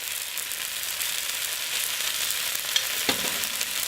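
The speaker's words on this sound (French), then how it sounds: "un demi-oignon coupé fin comme ceci et je vais cuire encore une dizaine de minutes à feu doux" Finely sliced half onion cooking over low heat in a pan gives a steady, even sizzle, with a faint stir or scrape near the end and no voices.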